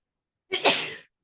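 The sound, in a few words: sneeze in courtroom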